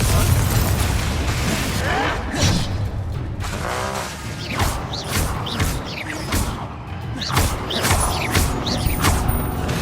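Confringo fire spell explosions in Hogwarts Legacy, a run of booming bursts and crackling pops over a dense, loud combat din, with brief voices mixed in.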